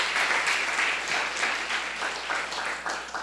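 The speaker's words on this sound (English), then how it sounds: "let's give them a round of applause for making the effort for coming out as well." An audience at a young adults event opening address breaks into applause, a dense wash of many hands clapping steadily for a few seconds, fairly close and full.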